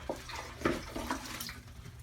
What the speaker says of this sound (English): we're just going to sort of jam it down into the toilet bowl and squeeze it real hard